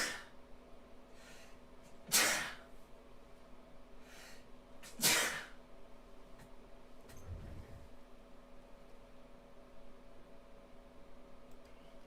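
Two sharp sneezes come about three seconds apart, close to the microphone, in an otherwise quiet room with faint background hum and no talking.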